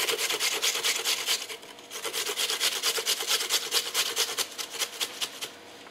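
Cassava (yuca) grated by hand for Salvadoran enredos, a steady run of rasping strokes scraping in a quick regular rhythm, close up and fairly quiet, with no talking.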